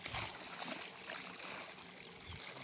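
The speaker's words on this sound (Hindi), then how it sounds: "अब हमने अपनी गंदम को पानी जो है ना वो खोल दिया" Irrigation water released into a wheat field gives a soft, steady trickling and flowing sound, faint and continuous throughout with no voices.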